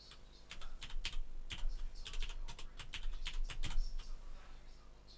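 Rapid clattering keystrokes on a computer keyboard as a temporary password is entered, an uneven burst of clicks close up over a steady low hum.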